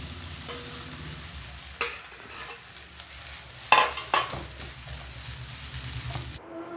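Rice and lemon juice are stirred into coriander rice in a pan, making soft sizzling and scraping as a spoon moves through the food, with a few sharper clinks of the spoon against the pan.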